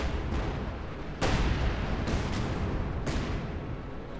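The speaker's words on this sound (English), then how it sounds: "Light artillery barrels in." A light artillery barrage lands in a Company of Heroes 2 match, heard as a dense, continuous rumble of distant blasts with several sharper bursts breaking through. The shelling stays loud and steady throughout.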